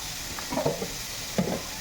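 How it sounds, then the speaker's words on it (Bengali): Papaya seasoned with salt and sugar is stirred in a frying pan for papaya paratha, giving a couple of short scraping stirs over a soft, steady sizzle. "তো এই যে এখন এটাকে সুন্দর করে একটু নাড়িয়ে চালিয়ে নেব"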